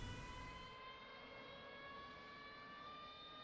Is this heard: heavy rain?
no